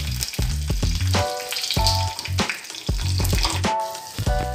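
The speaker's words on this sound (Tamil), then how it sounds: "கொஞ்சமாக கடுகு கிண்டினது 1 வத்து கருவேப்பிலை இதை சாம்பாரோடு சேர்த்துக்கலாம்." Mustard seeds, a dried chili and curry leaves sizzle and crackle in hot oil for a sambar tempering, with sharp spattering pops over a continuous fry and a few close clinks.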